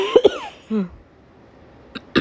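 A woman with a cold gives a few short, sharp coughs close up, then a strained throaty sound, a pause, and two more quick coughs.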